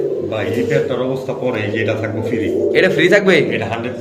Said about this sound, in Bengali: আজকের যে কবুতর সব অ্যাক্টিভ ভাই